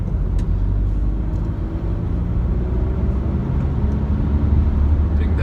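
Škoda Karoq 2.0 TDI 4x4 driving uphill, a steady low engine drone with road rumble inside the cabin, constant and even throughout.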